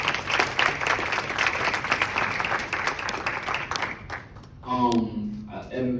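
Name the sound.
round of applause at a town hall meeting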